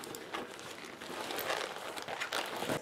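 A fabric handbag being turned right side out, with soft crinkling and rustling handling noises that come and go over a few seconds, close and fairly quiet.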